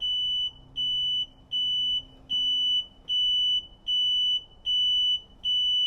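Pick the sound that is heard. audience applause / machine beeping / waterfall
machine beeping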